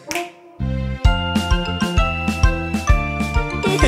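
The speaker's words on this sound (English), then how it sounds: "snap your fingers" Finger snaps click in steady rhythm over a bright, tinkling children's nursery song played on bells and bass, each snap landing sharply on the beat.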